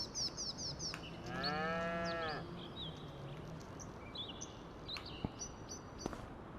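Cows mooing in the Farming Simulator 25 video game, one long, loud, harmonic moo in the foreground lasting about a second and a half, set over a steady farm ambience with faint chirps and clicks.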